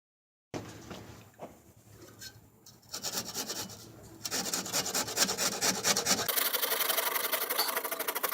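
Blade cutting and rasping through tangled roots in soil, a scraping, rubbing texture that starts quietly and grows into a dense, continuous sawing sound, close by with no talk.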